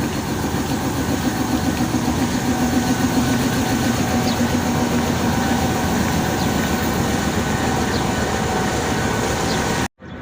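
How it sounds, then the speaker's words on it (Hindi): A train rumbles past continuously at close range at Chaklala railway station, Islamabad, a steady dense roar of wheels and engine for about ten seconds before cutting off abruptly. "ट्रेन की आवाज़ आई है।"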